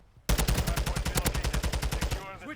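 A Taq 56 rifle fired in Modern Warfare 3 (MW3), a sudden loud burst of rapid automatic gunfire, about twenty close, evenly spaced shots in a tight rhythm that ends abruptly.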